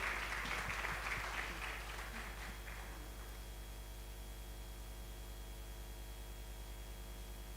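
An audience applauds as a woman comes to the stage at a women's economic empowerment event; the clapping is fairly faint, dies away after about three seconds, and leaves a steady electrical hum.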